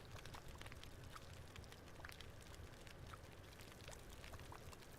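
Food cooks in the survival video game The Long Dark with a faint, continuous bubbling sizzle that holds steady throughout, with no talking.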